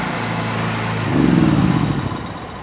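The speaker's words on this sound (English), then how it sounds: "Watch this. Pressure washer on," A PowerStream 3500 skid-mounted pressure washer starts up by remote: a steady engine hum swells into a louder, rougher drone after about a second, then settles back slightly, with no talking.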